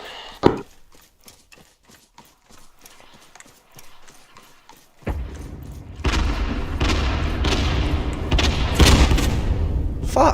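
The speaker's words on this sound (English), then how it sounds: "Fucking mortars, man." Mortar rounds fall in Arma 3 combat, producing a sudden deep boom, then a run of sustained heavy rumbling blasts that stay loud and close. Scattered clicks and a faint voice come before the first impact.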